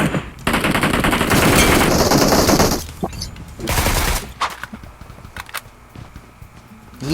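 Rapid automatic gunfire from the PUBG Mobile shooter game rattles in loud sustained bursts, then breaks into scattered single shots and quieter in-game effects.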